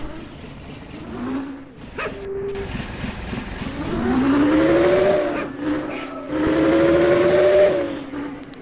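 A Bus Simulator Indonesia (BUSSID) bus with an STJ Iguazu sound mod rises and falls in engine pitch as it revs through drifts, with a whining horn-like tone swelling twice, steady and close.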